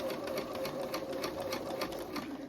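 A sewing machine stitches slowly through a thick fleece section of a kids' hat cuff, making a steady rapid mechanical chatter with even needle strokes close up.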